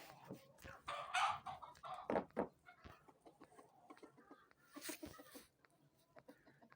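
Chickens cluck and squawk at a morning feeding on a snowy farmyard, a few close, irregular calls with brief wing flurries, quiet overall and mixed with a little background talk.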